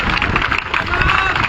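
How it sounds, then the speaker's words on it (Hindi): A large crowd applauds at a hunger-strike gathering at Shaheed Smarak in Jaipur, welcoming the speaker's wife. The clapping is loud, dense and continuous, mixed with a general crowd roar and babble. "जोरदार तालियों के साथ स्वागत करें।"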